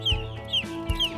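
Chickens in a poultry shed cluck repeatedly in short, close calls, with a steady low hum of the shed running underneath.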